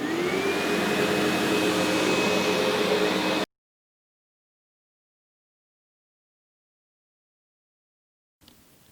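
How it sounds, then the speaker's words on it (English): A vacuum cleaner runs loudly with a steady whine for a few seconds, then cuts off abruptly into silence before a faint noise returns. "And last, we're going to vacuum."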